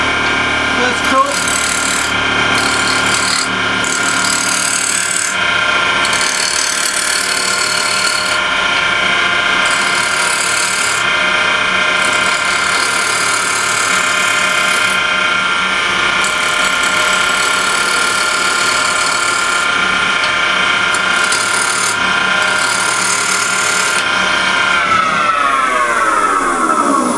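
A roughing gouge cuts wood spinning on a woodlathe while a cabriole leg is turned, a steady loud rasping scrape with a motor whine throughout, the cutting stopping in short gaps and the motor winding down at the end.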